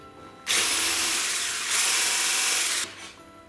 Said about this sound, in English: I'm just going to whisk my cream just a little bit, not too much